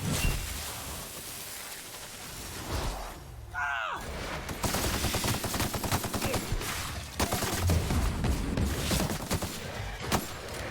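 Gunfire in the sci-fi video game The Outer Worlds: rapid bursts of automatic shots rattling in close succession, broken by a brief whooshing effect, then more sustained volleys with sharp individual cracks toward the end.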